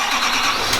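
A lifted Duramax diesel pickup truck starts up, a loud, dense, even burst of engine noise filling the short moment with no talking.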